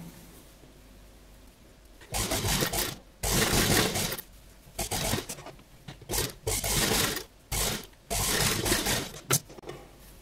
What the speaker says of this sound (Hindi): अब हम पहले इसको ऐसे सीधी साइड से सिलाई लगाएंगे